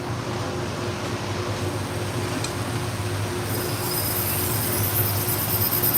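A knife sharpening machine built only for knives and for speed runs with a steady, continuous mechanical drone, and a brighter hiss joins partway through.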